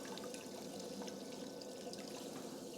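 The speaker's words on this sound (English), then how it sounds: "I'm running the water into the bucket so that I don't waste any." Water runs steadily from a portable propane on-demand water heater into a bucket at a campsite, a continuous close pouring and trickling with no talk.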